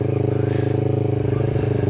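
A non-street-legal track motorcycle idles and revs lightly, a close, steady throbbing engine pulse with a rapid rhythmic chug over its brief span.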